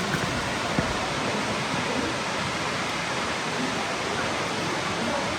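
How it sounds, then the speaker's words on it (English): Steady broadband roar of the waterfall at Hongu Taisha on the Kumano Kodo in Japan, a continuous rushing wash of falling water that holds even throughout, close and loud with no breaks. "Most beautiful waterfall I've ever seen."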